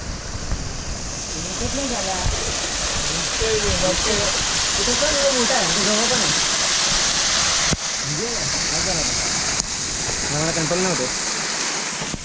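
Steady broadband rush of a waterfall on a trek to Peb Fort fills the clip, loud and constant, with a person talking over it throughout.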